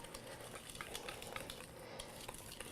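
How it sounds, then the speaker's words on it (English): Milk being whisked into cobbler batter in a bowl, a steady run of quick scraping, clinking strokes against the bowl, moderately close with no talking. "I'm just using a whisk because it goes pretty fast"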